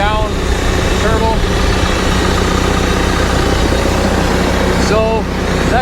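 A Cat TL1055C telehandler diesel engine with a turbo fault, throwing oil, runs at a steady idle: a loud, constant low rumble with a faint whine, broken by a couple of brief squeaks.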